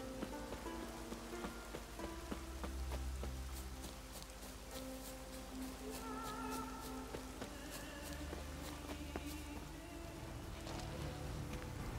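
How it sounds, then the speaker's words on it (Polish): Rain falls in The Witcher 3: Wild Hunt as a steady, faint wash of drops patters on surfaces, with scattered sharper drip ticks and low ambient game tones beneath. "Zanosi się na deszcz."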